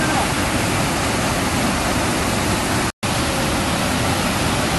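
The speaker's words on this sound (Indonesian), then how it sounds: "Itu belum berhenti hujannya." Heavy rain pours down at the Gunung Pandan tourist area during a flash flood, a dense, loud, unbroken roar like a torrent, with a split-second dropout midway.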